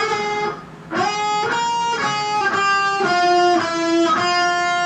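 Guitar phrase from a song, a steady series of ringing notes with sliding pitch changes along the neck, played close and fairly loud after a brief opening dip, with no talking.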